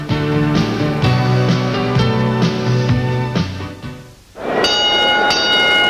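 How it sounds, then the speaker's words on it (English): Ringing bell at the end of a boxing bout between James Bonecrusher Smith and Mike Weaver, repeated loud tolling strokes that fade briefly before a fresh bright ring. "And still banging away at the final bell is Bonecrusher Smith"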